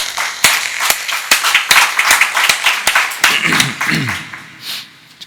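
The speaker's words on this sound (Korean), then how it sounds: "주님께 박수 드리겠습니다." Congregation clapping in unison during a Korean Baptist church worship service: loud, sharp, rhythmic claps in a steady beat, followed by a brief voice and a short lull.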